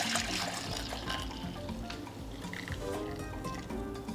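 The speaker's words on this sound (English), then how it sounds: "I'm going to go ahead and pour it into my Pyrex." Hot dissolved liquid is poured from a pot into a Pyrex dish, giving a continuous splashing, trickling wash with small bubbling sputters throughout, close and fairly quiet.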